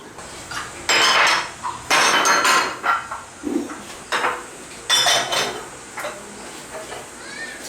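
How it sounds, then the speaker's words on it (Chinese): Dishes, pots and cutlery being washed in a home kitchen, with loud irregular bursts of clattering and clinking separated by short pauses. "今天必须洗碗了哈"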